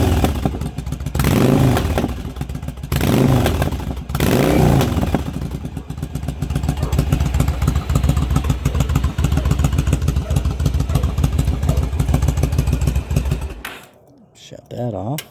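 A 2002 Yamaha V Star 1100 motorcycle with a repaired starter clutch idles close by with a loud, throbbing rumble and a few revving swells before the engine cuts off near the end.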